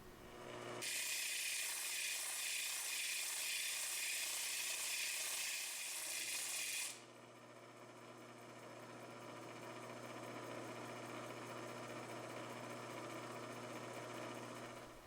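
A lapidary grinding wheel shapes a Leland Blue stone, a loud steady grinding whir for about six seconds that then drops to a quieter motor hum running on to the end.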